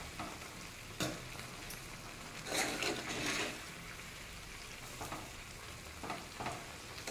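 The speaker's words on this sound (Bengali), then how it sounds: "এখন আমি এই চাপাটা একবার খুলব, একটু নাড়িয়ে দেব" Handi chicken is stirred in a covered pot on a gas stove, with soft scraping strokes and a low sizzle and bubbling underneath, a few brief louder stirs standing out against a quiet kitchen.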